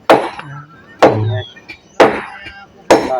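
Wooden stakes are hammered to brace a house post during a post-raising, four heavy, evenly spaced blows about a second apart, close and loud, with no talk.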